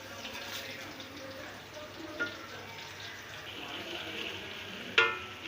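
Onions and whole garam masala frying in a pan for chana pulao, giving a steady low sizzle throughout, with a couple of brief clinks, one sharper near the end.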